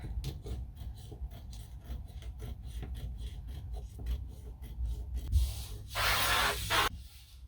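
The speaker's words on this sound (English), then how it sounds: "Just trimming this top down a little bit because I want to be able to get that Vita adhesive on there." A blade trims the top edge of foam insulation during a van build, a soft steady rasping scrape with rhythmic strokes, close and fairly quiet, ending in a louder spray-like hiss.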